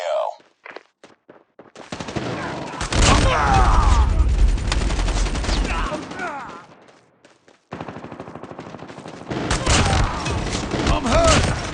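Gunfire erupts in a first-person shooter match on the cramped Shipment map, with a shotgun in play: sharp clicks lead into loud, dense bursts of shots, a brief lull, then another heavy volley.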